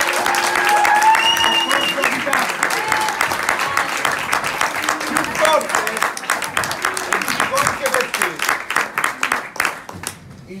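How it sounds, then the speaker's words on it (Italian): Audience applause at a school music concert in the villa setting of Villa Fiorentino, with many hands clapping over background chatter and voices, the clapping growing more rhythmic and sparse toward the end before fading. "un applauso."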